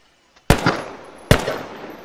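Two single, heavy AKM 7.62x39mm rifle shots in a modded video game, each a sharp loud crack with a short rolling echo, about a second apart.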